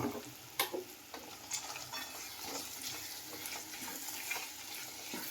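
Cashews stirred into sizzling masala in a pan, with a close frying hiss and repeated scraping strokes of a spoon through the mixture, moderately quiet, no voices.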